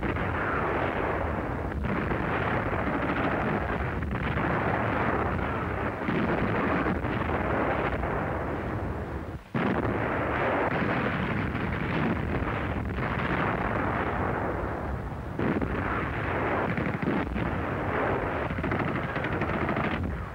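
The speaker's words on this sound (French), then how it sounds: "Artillerie beschießt das jenseitige Ufer des Dnieper." Artillery shelling the far bank of the Dnieper near Dnepropetrovsk, a dense, continuous roar of booms and blasts with a few sharper breaks, loud and unbroken across the clip, in old wartime film audio.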